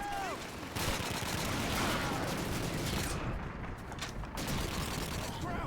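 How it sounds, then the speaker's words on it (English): Gunfire in Call of Duty 2 set during a village siege: a dense run of loud, close rifle and machine-gun shots cracks continuously over a rumbling battle backdrop, with faint voices in the mix. "Shoot these 7 bullets."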